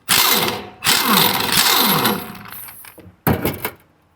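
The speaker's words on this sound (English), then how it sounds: "you'll take your socket gun and drive this nut off" A socket gun drives the nut off the grinding wheel of an RGB 712 blade grinder in short, loud bursts: three rattling runs close together, a pause, then one more sharp burst.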